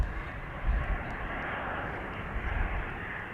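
A 15-year-old EasyJet A320 airliner departing Amsterdam Schiphol Airport, a loud broadband jet engine roar close by, steady and sustained with slight surges and no talk.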